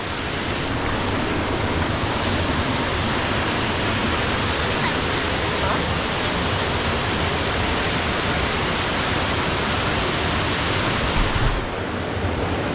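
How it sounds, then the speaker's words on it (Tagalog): River water rushes loudly and continuously while people wade across a river toward a neighboring village, a dense, steady roar with no clear talk above it. "ngayon ay tatawid kami ng ilog"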